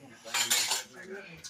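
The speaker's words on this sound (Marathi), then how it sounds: "आणि इकडे सोनी भांडी घासते." Dishes are washed in a home kitchen: a short burst of clinking cutlery and plates, fairly close, then softer clatter.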